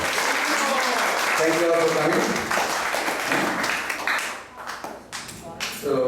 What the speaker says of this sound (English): Let's give a round of applause for all those devotees who have come for the first time.